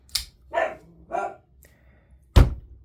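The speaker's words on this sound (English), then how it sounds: "That dog, he's been barking for everything I've been doing today." A dog barks nearby in a few sharp separate bursts, three close together at the start, then a pause, then a louder final bark, with quiet between them.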